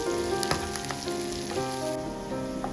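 Fenugreek leaves fry with onions and mutton keema in a pan, giving a steady close sizzle with light crackles and stirring clinks throughout.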